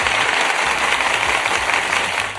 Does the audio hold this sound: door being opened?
no